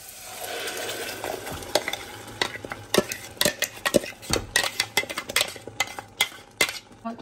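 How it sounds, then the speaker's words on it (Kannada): Onions fry in a pan with ground masala paste for paneer butter masala, a low sizzle under frequent sharp clicks and scrapes of a spoon against the pan, growing busier toward the end, with no talk. "ಆನಿಯನ್ ಸ್ವಲ್ಪ ಗೋಲ್ಡನ್ ಬ್ರೌನ್ ಆದ ಕೂಡಲೇ ರುಬ್ಬಿರೋ ಮಿಶ್ರಣ ಹಾಕ್ಕೊಳ್ಳೋಣ."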